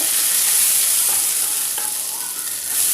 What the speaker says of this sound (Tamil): கடுகு கொஞ்சம் நல்லா பொரிய விடணும்.